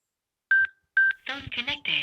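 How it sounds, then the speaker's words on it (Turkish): A Sena smart motorcycle helmet intercom gives two short, bright electronic beeps announcing that the phone has connected, followed right after by a voice prompt. "Telefon bağlandı diye uyarısını verdi."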